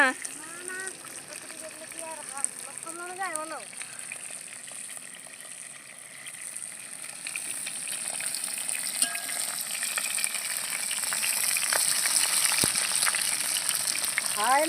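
Food sizzles and fries in a pan with a steady, crackling hiss that grows louder toward the end, with a brief voice near the start.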